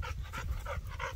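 A tri-lilac puppy panting close by in quick, even breaths, soft and rhythmic with a faint whiny edge, with no other sounds.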